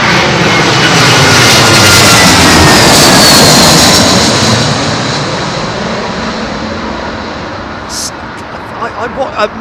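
A heavy airliner comes in to land on runway 27L at London Heathrow in a southwest crosswind, its jet engines a loud broad roar that slowly fades, with faint voices nearby.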